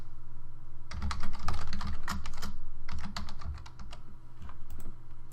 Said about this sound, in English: as I type in the code